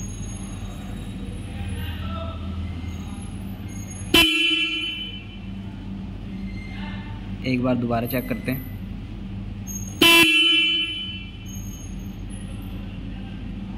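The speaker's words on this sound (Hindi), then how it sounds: "बाइक का हॉर्न प्रेस करते हैं कि कितना लाउड जाता है," Two loud, sharp Jawa 42 Bobber motorcycle horn blasts sound several seconds apart, with someone talking quietly between them over a low engine hum.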